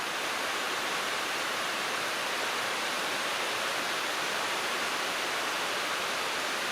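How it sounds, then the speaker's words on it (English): Steady soaking rain shower falling outdoors over a rural paddock, a dense, even hiss of rainfall that continues unchanged throughout with no voices. "what a lovely shower rain."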